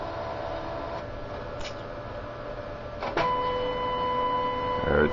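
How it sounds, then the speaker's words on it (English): A Kodak 6850 photo printer whirs and hums steadily while printing a test page, with a couple of brief mechanical clicks and a sustained motor tone partway through. "in a minute here I'll print a test page"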